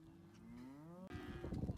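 Cows on a Wyoming dairy farm moo close by, one long low call rising in pitch, then a rougher burst of lowing and shuffling, with no one talking.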